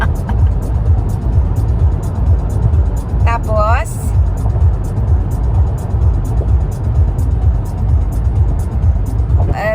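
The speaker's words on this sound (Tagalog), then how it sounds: "It's busy road right now." Steady traffic on a busy road on a long weekend, a continuous loud rumble of passing cars, with people talking over it throughout.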